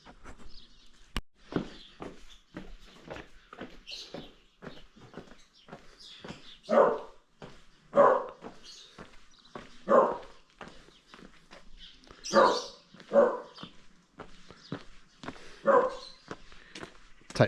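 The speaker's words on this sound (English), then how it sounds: "Silly doggy" A dog barks repeatedly in an old village basement used for grain storage, giving loud, sharp barks at irregular intervals over a steady background of faint rustling and footsteps.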